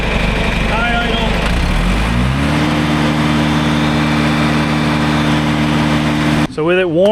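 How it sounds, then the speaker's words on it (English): A warm John Deere JD410 backhoe diesel engine runs steadily at high idle, a loud, even drone that rises briefly in pitch early on before holding constant, with a voice and other noise breaking in near the end. "All right, so engine at high idle, warm, which it is."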